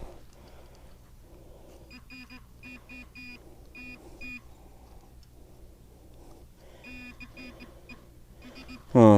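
A Deus XP metal detector emits repeated electronic signal tones, short beeping bursts in uneven groups over a faint background hum, ending with a loud handling knock.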